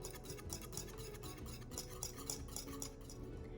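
A whisk scrapes and clinks steadily against a pan as a hot mixture is beaten off the heat, a quick, even metallic rhythm close by with no talking.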